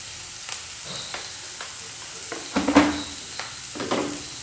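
Masala frying in a pan for an egg fry, a continuous sizzle with clinks and scrapes as a utensil stirs it, no voices.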